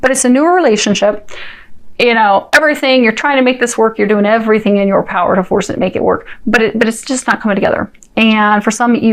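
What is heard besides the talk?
No everyday noises stand out.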